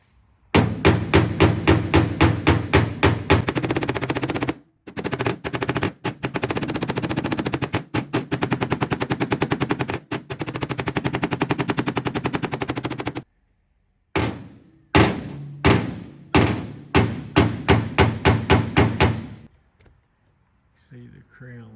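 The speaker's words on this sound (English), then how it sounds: "now I'm actually going to use this blending hammer right here" A blending hammer taps out a dent on a freshly painted 68 Chevelle body panel, rapid sharp metallic strikes in fast bursts with short pauses between runs, loud and close.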